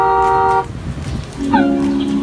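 Two short electronic horn beeps from a rechargeable ride-on toy forklift truck sound close by, a bright tone followed by a lower one after a brief pause.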